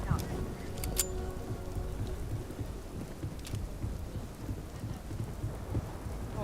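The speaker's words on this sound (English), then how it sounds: "Lot of rains are coming soon." Steady rain patters over a low rolling thunderstorm rumble in a video game, with a couple of sharp crackles early on and the wash of rain continuing throughout at moderate loudness.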